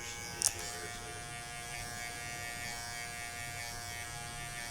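Electric shaver running with a steady, even buzz, faint and continuous throughout, with a brief click near the start.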